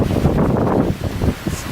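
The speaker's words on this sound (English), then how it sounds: "I got a large gust of wind going here." A strong gust of hurricane wind from Hurricane Matthew roars loud and close, buffeting the microphone with broad rushing noise that swells and eases briefly.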